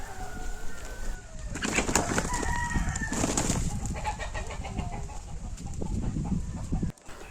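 Red and black desi aseel fighting roosters cluck and grumble up close, with a few sharper bursts of calls and some rustling through several seconds.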